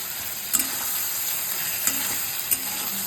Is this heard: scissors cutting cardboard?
no